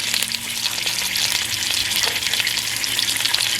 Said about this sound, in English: I'm putting some thyme on the potatoes that Christian put in the butter to cook.